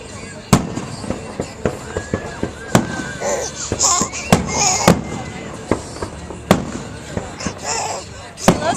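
Fireworks burst in a series of sharp, loud bangs at irregular intervals, some with crackling tails, while nearby voices and a child's cries and laughter are heard between the blasts.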